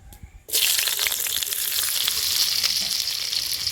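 Chopped onion hits hot oil with a sudden loud sizzle after a brief quiet moment, then crackles and hisses steadily and densely to the end, close up with no talking.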